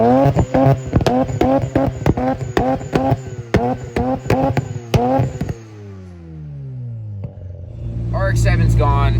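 A Mazda RX-7 Turbo II (FC) engine revs hard through a series of sharp, rising bursts that repeat in quick rhythm. It then drops into a falling whine before building into a loud, steady roar close by.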